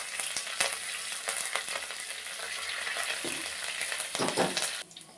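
Dried red chillies and curry leaves sizzle in hot oil for upma, a crackling close frying hiss with occasional stirring clicks, dropping off abruptly just before the end.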